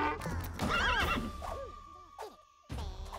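Horse or donkey whinny from the Rhythm Royale video game, a loud close neigh with wavering pitch followed by hoof clip-clops and a sustained tone, then a sudden burst of game noise.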